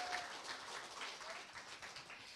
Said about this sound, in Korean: 강사님께 다시 한번 감사의 박수 부탁드립니다